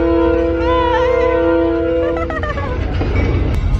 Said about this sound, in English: Train departed